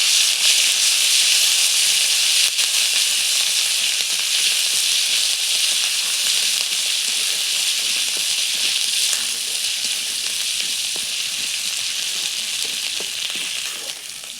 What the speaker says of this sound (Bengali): প্রথমে আদা আর কাঁচা লঙ্কাটিকে ভেজে নেব।